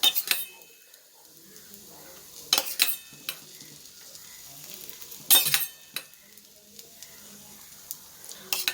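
A thick finger millet roti cooks in oil on a pan with a soft sizzle, broken at intervals by sharp scrapes and clinks of a utensil against the pan.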